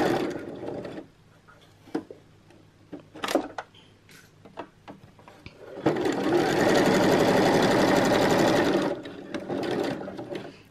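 A sewing machine stitches bias tape around the edge of a Christmas tree skirt, starting with scattered clicks and short bursts, then running loud and continuous for about three seconds before easing back to intermittent stitching.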